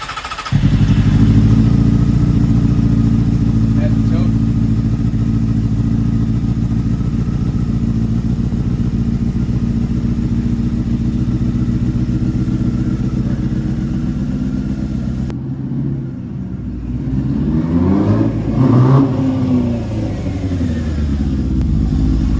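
A Honda CBR600 F3 motorcycle engine runs loud and close, a steady rumbling idle that rises into revving bursts toward the end.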